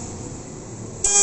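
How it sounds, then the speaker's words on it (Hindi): An ATV quad bike's horn sounds once at the very end, a sudden loud steady electric beep cutting in over a quiet background hum. "ये बाइक का हॉर्न है"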